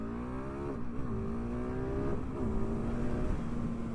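A KTM 690 SMC R supermoto motorcycle accelerates hard, its engine note climbing through rising pitch sweeps with brief drops at gear shifts, steady and fairly close, with no talking.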